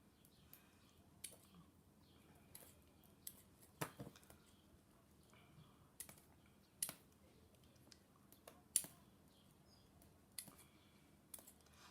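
Safety scissors snip a crayon into wax shavings: quiet, irregular clicks and crunchy cuts scattered at a close, faint level with no talk.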